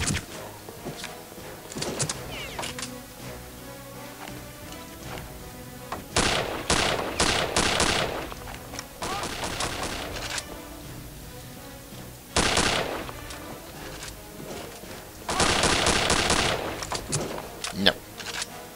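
Gunfire erupts from behind in Return to Castle Wolfenstein, several sharp bursts of shots in clusters between quieter gaps, with a voice talking in between.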